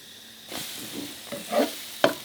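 Sweetcorn French toast frying in a buttered pan, soft sizzling under a few scrapes and taps of a utensil moving it around, close and moderately loud.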